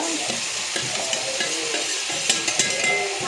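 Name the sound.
potatoes and tomatoes frying in pan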